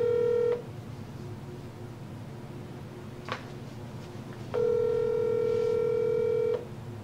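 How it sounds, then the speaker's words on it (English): A telephone rings for an incoming call: two long electronic ring tones separated by a pause, set against a quiet background hiss. "I got a phone call, hold on."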